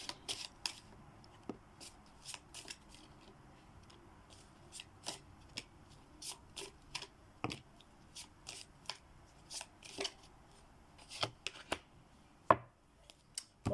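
Fortune-telling cards are shuffled by hand at close range, a string of crisp riffling snaps and flicks in irregular bursts over a quiet background, with no voices.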